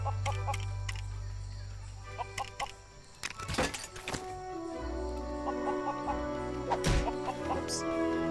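A chicken in the Lego Worlds video game clucks in short, soft bursts over looping game music and sound effects, with a few brief sharp effects in between.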